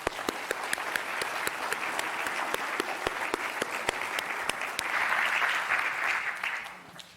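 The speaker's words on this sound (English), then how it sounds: "Let's give our panelists another round of applause." An audience at a university energy symposium claps steadily for the panelists, with a moderate room-filling applause that swells slightly toward the end before fading out.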